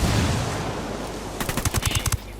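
Gunfire erupts in Ghost Recon Wildlands after a frag grenade is thrown, a roar of blast rumble giving way to a rapid burst of sharp shots, close and loud.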